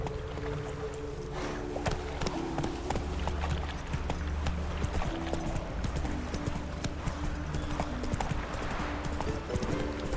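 Horse galloping in The Witcher 3, a fast rhythmic clip-clop of hooves sustained throughout, close and clear over low game ambience.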